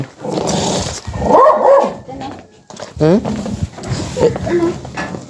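A dog barks in several loud, close bursts, mixed with people talking nearby.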